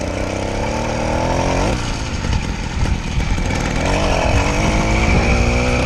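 An 80cc motorized bicycle engine buzzes loudly while riding, a raspy two-stroke whine that drops as the throttle eases, then rises again as it revs back up.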